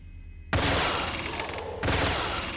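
Sustained enemy return fire in the video game XCOM: a loud, dense burst of rapid automatic shots breaking in abruptly, briefly dipping and then resuming just as heavily.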